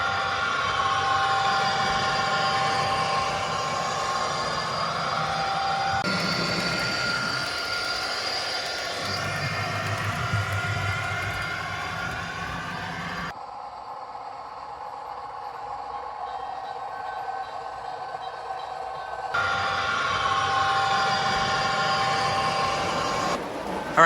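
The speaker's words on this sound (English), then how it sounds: "This goes by my train room." A model train runs on the Union Central System train room layout, with a steady humming, rolling drone that holds at moderate loudness through a few abrupt cuts.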